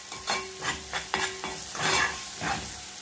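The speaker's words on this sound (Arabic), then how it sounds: "هنقلب برده كويس كده" Onions fry in a pan while a spoon stirs them, scraping strokes repeating in an uneven rhythm over a steady close sizzle.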